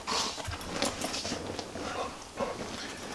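Pit bull shelter dogs at play, giving soft pants, snuffles and brief whimpers with light scuffling paws, steady and fairly close throughout.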